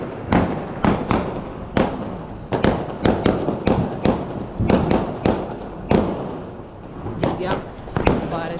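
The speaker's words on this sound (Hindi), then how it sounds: "गाइस ये 12 शॉट है, चला रहे हैं 12 शॉट है 12" A 12-shot Diwali firework cake fires outdoors as a rapid series of sharp bangs and cracks, roughly a dozen bursts in quick irregular succession, loud and close.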